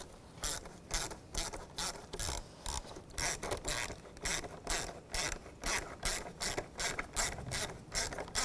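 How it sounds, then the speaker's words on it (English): A ratchet tightens a worm-drive hose clamp during a MAP sensor replacement on a 2005-2010 Chevrolet Cobalt, giving rapid, close clicking in regular bursts of back-and-forth strokes. "tighten this worm clamp down"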